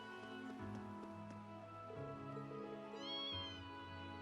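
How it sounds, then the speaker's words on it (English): A cat meows in Trails of Cold Steel, a short mewing cry near the end over a soft, steady musical backdrop with faint patter, fairly quiet overall. "Kitty"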